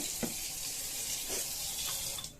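Tap water runs steadily into a bowl holding fresh peas to soak, a continuous hissing splash with a few soft knocks.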